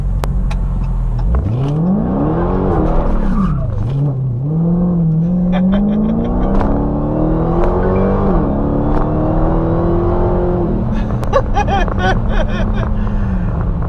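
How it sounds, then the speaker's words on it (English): A 2018 Dodge Challenger Hellcat revs loudly up close, its engine note climbing and falling through several sweeps before the tires break loose, with sharp crackles and a rising whine toward the end. "it should let me break the tires loose just a little bit."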